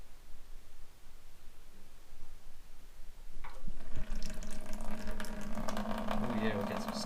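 Old fuel drains through lines from the tank of a Suzuki Intruder 1400 motorcycle, starting after a few quiet seconds as a steady near splashing, trickling pour into a container.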